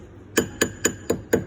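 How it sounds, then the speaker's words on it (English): A hammer strikes a silver wedding band five times in an even rhythm, each tap short, bright and ringing, close and alone. "and we start hammering."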